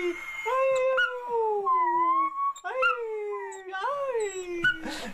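Dog howling in long, sliding, song-like wails, several rising and falling notes close to the listener, with brief voices and a rustle near the end.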